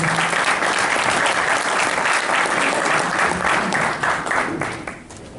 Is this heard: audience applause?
yes